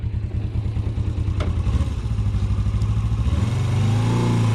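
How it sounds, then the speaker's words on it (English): A 1981 Suzuki GS450S motorcycle engine runs steadily up close with a pulsing mid-range drone, rising in pitch toward the end as it accelerates, with some light mechanical clatter. "I'll do a drive-by, all right?"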